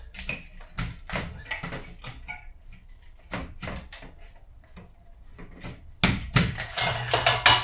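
Several sharp plastic snaps and clicks of T8 LED light tubes snapping into place in a garage, spaced irregularly, followed by louder clattering and a brief drill whir near the end.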